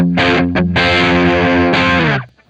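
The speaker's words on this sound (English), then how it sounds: "Now let's go ahead and hear the alternate voice of the overdrive." Electric guitar through the alternate, slightly less gainy overdrive voice of a Beetronics Zzombee Filtremulator pedal: a short stab, a quick clipped hit, then a long held chord, a re-struck chord and a fading tail, with no voices.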